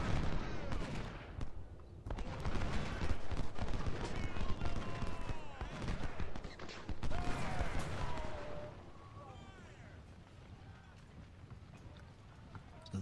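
Cannon and rifle fire in the Ultimate General: Civil War First Bull Run battle, a dense string of sharp shots and booms over continuous battlefield din, with hoof-like clatter mixed in.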